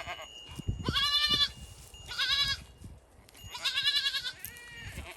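Goats bleat close by, several loud, wavering cries in a row with short pauses between them, over faint background rustle.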